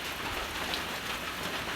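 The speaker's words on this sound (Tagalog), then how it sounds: "basang basa sa ulan na pagtaan" Heavy rain falls as a dense, steady hiss of drops hitting surfaces, continuous and fairly close, with no voices.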